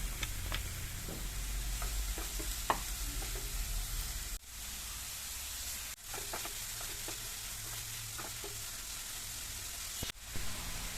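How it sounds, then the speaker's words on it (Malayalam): Chopped onion and salt sautéing in coconut oil in a pan give a steady close sizzle with occasional stirring scrapes and clicks, a couple of brief dips in the frying noise, and no voices. "ഇനി ഇതിലേക്ക് കുറച്ച് ഉപ്പ് ചേർത്ത് കൊടുത്തിട്ട് ഇതൊന്ന് വാട്ടിയെടുക്കാം"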